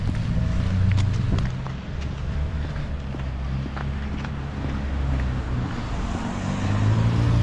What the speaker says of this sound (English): Lots of vehicles on the road.